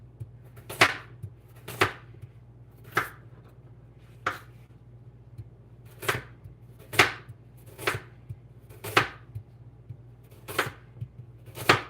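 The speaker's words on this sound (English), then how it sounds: "now we're gonna cut the carrots" A knife slices through carrots on a cutting board in about ten crisp, separate cuts at an uneven pace, close and clear against a quiet background hum.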